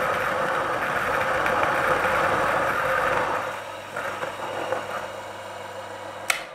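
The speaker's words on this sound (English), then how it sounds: "So if we listen to it grinding with beans in, obviously." A Niche Zero coffee grinder runs with beans in it, giving a steady, fairly quiet mechanical whir with a grinding texture that eases off partway through, ending in a small sharp click.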